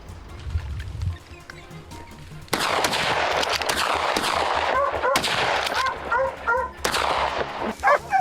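Rifles fire at a herd of wild boars in open terrain, with sharp gunshots cracking in quick bursts and scattered single reports. Animal squeals or bird calls come through between the shots, with a low rumble before the shooting starts.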